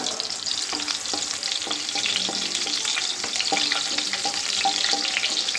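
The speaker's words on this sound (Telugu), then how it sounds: "ఫస్ట్ ఆనియన్స్ వేసి ఫ్రై చేద్దాం" Onions fry in a pan with a steady crackling sizzle, punctuated by repeated scraping and stirring strokes of a utensil, close and without talk.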